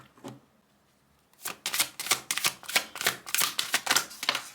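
Tarot cards are handled and drawn out, a faint rustle first, then a quick run of crisp, close clicks and flicks in a fairly steady rhythm.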